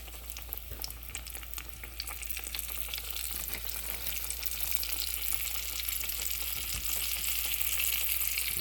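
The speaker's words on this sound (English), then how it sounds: "Sizzle, sizzle." Steady, dense sizzling of morel mushrooms frying in hot grease, with faint crackles and pops throughout and a low background hum.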